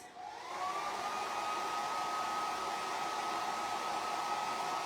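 A hair dryer blows steadily as hair is dried, starting up in the first half-second and then holding an even, constant whoosh with a faint whine, close and uninterrupted.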